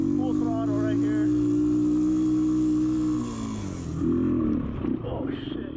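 A Honda XR200R dirt bike engine held at full throttle, a loud steady drone that drops off near the end as a voice exclaims over the engine noise.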